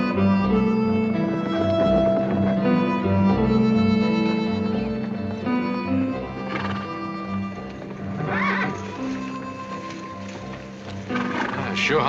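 A horse whinnies and snorts on a cattle drive into high country, with hooves clip-clopping and other movement underneath, fairly close and loud against a music-like tonal background.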